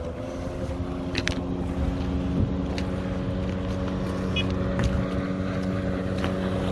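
A PVC boat driven by a 50 hp outboard motor fitted with a water jet runs at speed, its engine drone steady and close with wind rushing over the microphone throughout.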